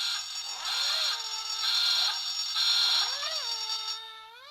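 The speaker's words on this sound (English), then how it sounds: "it comes with the famous QI klaxon, which sounds like this." The QI board game's klaxon buzzer blares in repeated harsh, wailing bursts with pitch swoops, three or four blasts in quick succession, fairly faint and with no talk over it.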